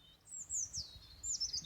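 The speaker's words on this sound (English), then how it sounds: "The birds are chirping." Birds chirp in Norwegian spring nature beside a fjord, a few bright rising tweets and short trills, fairly faint over a soft low outdoor rumble, with no talk.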